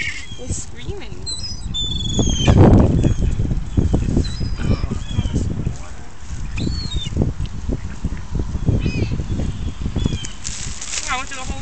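Seagulls shriek in scattered high calls above a loud, buffeting rumble of wind and outdoor movement, with a few cries standing out close by.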